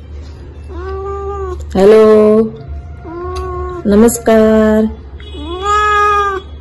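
A cat meows repeatedly and loudly at close range, with several drawn-out, wavering cries, while a person speaks briefly between them.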